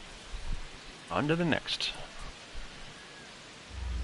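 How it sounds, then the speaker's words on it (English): Steady rain falling over a ballpark in a baseball video game, a soft continuous hiss running through the whole stretch beneath a voice. "It's been raining for like 3 days straight now at this ballpark."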